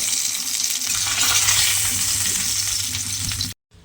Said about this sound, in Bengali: ইলিশ মাছের মাথাগুলো আমি এখানে উল্টে পাল্টে লাল করে ভেজে নিয়েছি।